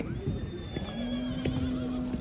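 A horse at a livestock bazaar in Kara-Balta gives a long steady whinny that runs for most of the moment, moderately near, over crowd murmur and faint clip-clop.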